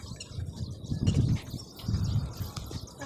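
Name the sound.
trained pigeons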